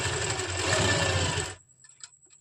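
A sewing machine stitching a cloth belt strip onto a palazzo, running in a fast steady rattle for about a second and a half, then stopping abruptly and leaving a few faint clicks.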